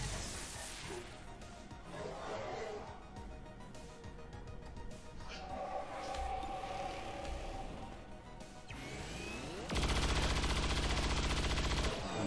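Gunfire from soldiers in XCOM 2 during a tense city battle against an Archon, a mix of sharp shots and crashes over game music, ending in a loud, dense burst of firing.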